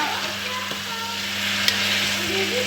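Tripe and beef being stirred in a pan of tomato sauce with shrimp and green spices, a steady close sizzle with soft scraping of the spoon throughout, no talking.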